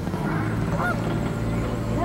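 Geese honking at a Canadian safari park, several short nasal calls over a steady low rumble of background noise, moderately close.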